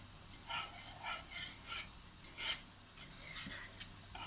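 Spoon stirring a thickening rice flour and milk mixture for Pesaha paal, soft scraping strokes repeating about every half second, close and fairly quiet.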